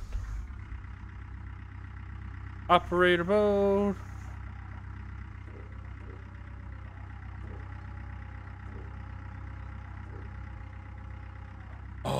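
Excavator engine idling in the Gold Rush mining game, a steady low mechanical drone running throughout, briefly interrupted near the start by a short tonal chime, with a voice speaking briefly.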